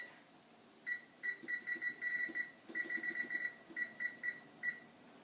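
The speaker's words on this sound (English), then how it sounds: "set the timer for 20 minutes" A kitchen timer being set for 20 minutes, giving a quick series of bright electronic beeps in irregular bursts, close and fairly quiet in an otherwise still room.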